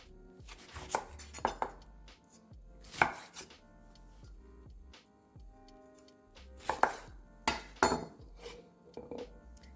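Lemon being cut and peeled on a cutting board for a berry beet juice wellness shot, with sharp knife chops landing in scattered clusters, close and fairly loud, separated by quiet gaps.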